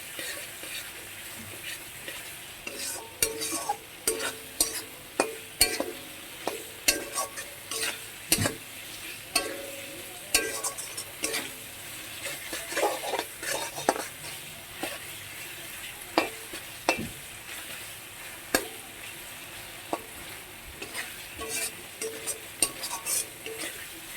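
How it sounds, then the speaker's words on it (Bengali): Spices frying in hot oil hiss and sizzle as a utensil stirs and scrapes the pan, with frequent clinks and knocks against the metal. The sounds are close and irregular, with no talking. "একদম ভেজে নেবো এটা।"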